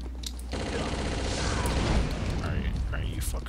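Gunfire in a horror video game, a dense burst of booming shots and rapid fusillade rolling loudly for about three seconds over a low rumble.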